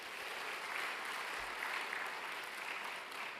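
A church congregation at a Wednesday service gives dense, even applause. The sound is soft and distant and stays steady for a few seconds, with no voices over it.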